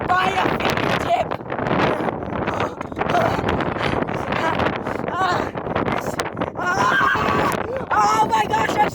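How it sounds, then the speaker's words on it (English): Strong wind buffets the microphone outdoors during a tractor stunt, loud roaring gusts surging and dropping for the whole stretch, with a voice shouting over the noise. "This is too windy."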